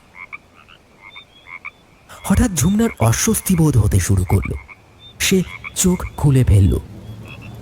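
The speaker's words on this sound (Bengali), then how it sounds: "ব্যাঙের ডাক ভেসে আসছে বাইরে থেকে" Frogs croak repeatedly in the background, near and continuous, while a person narrates over them for most of the clip.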